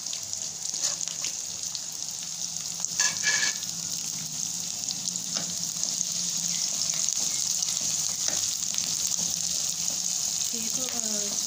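Onions fry in a cup of ghee at the start of a zeera pulao, a bright steady hiss and crackle running throughout with a few faint clinks, moderately quiet.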